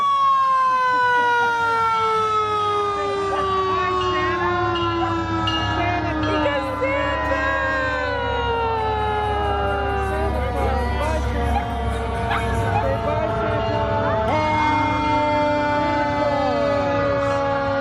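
A fire truck siren carrying Santa through a Christmas parade holds a long, steady wail that slowly falls and rises, loud and near, with a low engine rumble and voices of onlookers underneath.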